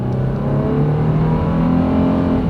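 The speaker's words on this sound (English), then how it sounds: "Now, it's a heavy vehicle with a big engine, but we're going 40 now." A heavy vehicle with a big engine accelerates hard down a drag strip, its loud, close, steady engine roar and whine holding throughout with no voices.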